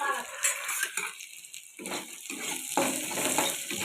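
Raw onion goes into a hot pan and fries with a moderate crackling sizzle, with bursts of spattering and stirring separated by brief lulls.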